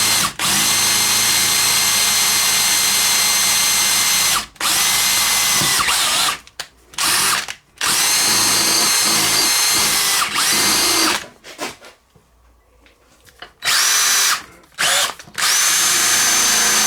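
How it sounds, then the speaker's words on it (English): A power drill bores an oil hole in the main bearing of a Harker steam engine under restoration, whining loudly in long sustained bursts broken by short pauses and a quieter gap, with no talk. "I'm going to put that shaft in there just so if the drill goes bursting through"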